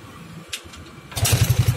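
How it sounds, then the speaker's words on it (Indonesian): A motorcycle is kick-started: a short mechanical clunk and scrape, then the engine catches and settles into a fast, close, steady putter. "Lanjut abis itu kalian starter kakinya, cut."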